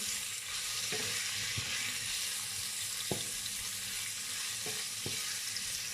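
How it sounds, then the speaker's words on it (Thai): Pork belly stir-frying in a pan, heard as a continuous bright sizzle with a few scraping stir strokes at intervals, close and fairly even in level, with no voices. "เราจะผัดหมูให้เขา เริ่มสุกก่อนเนาะ"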